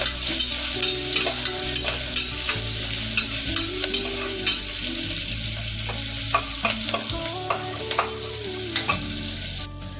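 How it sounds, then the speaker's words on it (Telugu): Green chillies and onions fry in a pan for a sweet corn coconut milk biryani, a loud, steady close sizzle punctuated by repeated scraping stirs of a spatula, with no voices throughout. "పచ్చిమిర్చి బాగా వేయించుకోవాలి"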